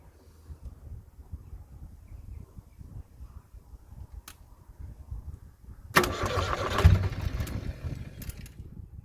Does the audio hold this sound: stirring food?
no